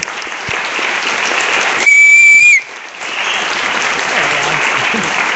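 An audience at a speaker series talk applauds steadily, interrupted by one sharp, loud whistle lasting under a second, after which the clapping resumes.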